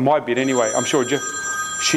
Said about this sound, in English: that's my phone. Hang on.